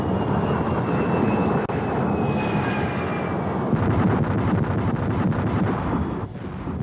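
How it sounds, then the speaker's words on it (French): Airbus airliner going around with its engines at full power, a loud, continuous broadband jet roar that holds steady with wind buffeting and builds slightly toward the end. "Fais remettre les gaz à l'Airbus."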